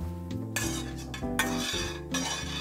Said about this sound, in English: just want to stir this up to melt that dark chocolate